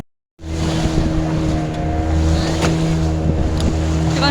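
A motorboat engine drones steadily while out at sea on a fishing-style boat outing, loud and continuous after a brief silent start, with no talking.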